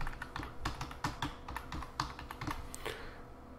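Keys on a computer keyboard are typed in quick bursts to enter a user ID and password, giving close, crisp clicks in an uneven rhythm with brief pauses between strokes.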